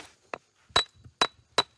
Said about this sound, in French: On met un coup de marteau pour voir.